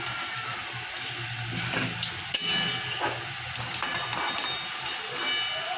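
Potato pieces frying in hot oil for a mutton curry, a steady broadband sizzle with occasional pops and bubbling bursts, close and continuous with no talking.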